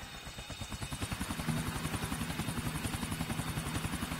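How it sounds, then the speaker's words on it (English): A helicopter in GTA IV flies close by, its steady, rhythmic rotor chop pulsing rapidly and growing slightly louder, alone without speech. "Free helicopter for me."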